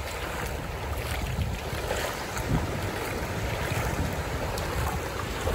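Sea waves wash steadily around someone wading through shallow water at sunset on a beach, a continuous broadband surf rush with wind buffeting the microphone, no voices.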